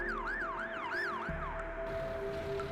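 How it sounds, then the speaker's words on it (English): Ambulance siren wailing in a rising and falling pattern, fairly distant and steady, with a low vehicle rumble underneath and no talk. "Grant and Jane transport Irene to the waiting ambulance"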